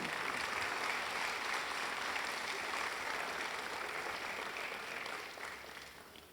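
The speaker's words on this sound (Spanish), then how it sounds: "le damos un aplauso al Señor" Sustained applause from a church congregation, dense and steady clapping that carries on throughout before easing off slightly at the end.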